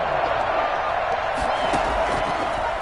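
A large stadium crowd of Texans fans roars steadily at an NFL game on third down, a continuous wash of cheering with scattered claps and thuds.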